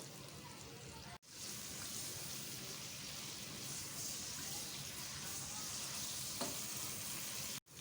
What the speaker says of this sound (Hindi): प्याज को अच्छी तरह से गोल्डन ब्राउन करें।